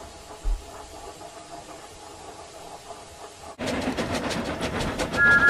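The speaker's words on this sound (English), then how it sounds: "The engines made good time." Train engines run along the railway with a steady rumble. Partway through, the sound jumps to a louder, denser clatter of wheels on track that continues to the end.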